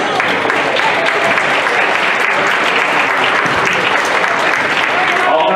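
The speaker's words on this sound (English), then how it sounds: "Let's get a round of applause" Loud, dense applause fills a gym at the 2020 Cranberry Classic basketball tournament, a continuous wash of clapping from the crowd for both teams, steady and close throughout.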